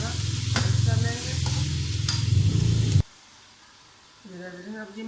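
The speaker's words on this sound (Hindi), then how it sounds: "सब चीज़ों को अच्छी तरह मिक्स कर लेंगे।" Ingredients for a pumpkin curry with whole green chillies are stirred in a pan: about three seconds of steady, close sizzling with scraping strokes, then a sudden drop to near quiet before a voice speaks briefly.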